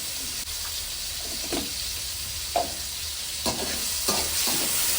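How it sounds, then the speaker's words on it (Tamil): Mustard seeds, fenugreek, garlic, curry leaves and onion sizzle in hot oil in a kadai for a fish fry tempering, a steady close frying hiss with a few louder crackles and stirring scrapes. "கொதிக்குது கொதிக்குது கடாயில கொதிக்குது"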